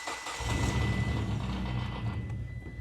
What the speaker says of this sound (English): Let's hear that new exhaust.